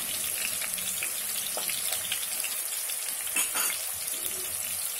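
Onions and spices frying in hot oil for hotel-style veg pulao, a faint steady sizzle with a couple of brief stirring clinks, no talk.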